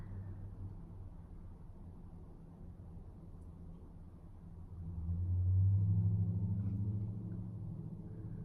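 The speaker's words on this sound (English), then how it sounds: "we almost made it through the video without a loud truck going by" A loud truck rumbles past outside, a low, distant drone that swells to a heavy peak midway and then slowly fades, heard indoors with no talk.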